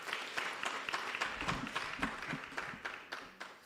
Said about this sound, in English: Let us give Prof. Mawela another round of applause